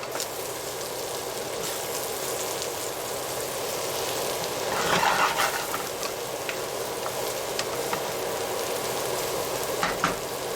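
Mushrooms sautéing in butter in a small 7-inch pan give a steady, close sizzle, with a brief louder burst of frying midway and occasional crackles.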